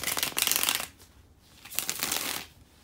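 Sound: shuffling tarot cards

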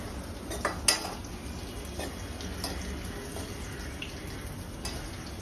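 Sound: vegetables added and stirred in a cooking pan

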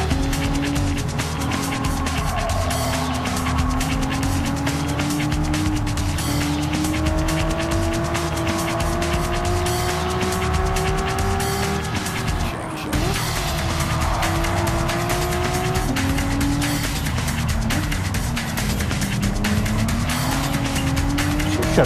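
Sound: race cars and tire squeal in racing video game

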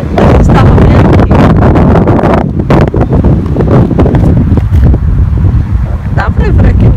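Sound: strong wind

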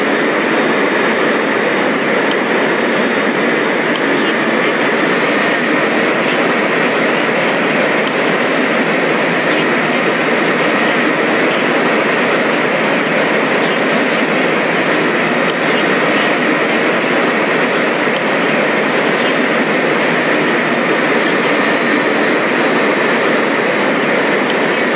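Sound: airplane taxiing to the gate in Real Flight Simulator video game

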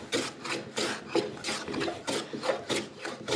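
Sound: blade planing sapele dovetails flush, diagonally

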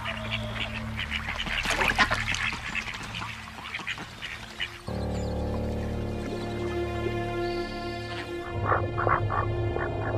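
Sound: ducks quacking during dominance displays

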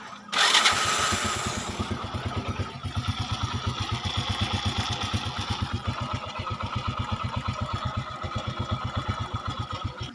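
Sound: motorcycle engine idling

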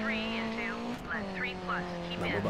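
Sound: car engine racing in Dirt 3 video game

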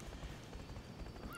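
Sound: horse hooves and neigh in video game I Love Horses

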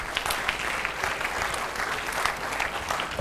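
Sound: audience applause

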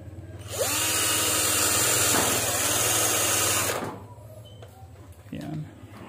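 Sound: power drill drilling an aluminum screen door frame

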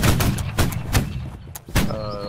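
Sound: artillery fire in video game Holdfast: Nations at War

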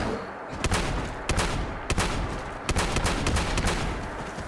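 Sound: gunshots shooting a bear in the video game Fallout 76

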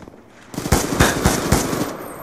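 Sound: gunfire in video game Black Ops 2 Gun Game

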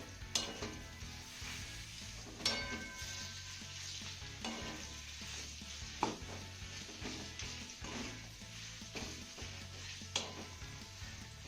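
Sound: sautéing finely chopped figs in a pan

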